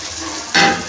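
Water poured from a cup into a hot tempering while cooking black chickpea dal sets off a sudden, loud burst of sizzling that quickly fades to a steady fry.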